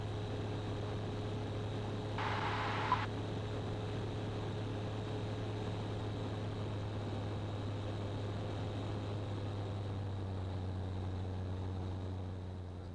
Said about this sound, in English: Aircraft is a Tectum Sierra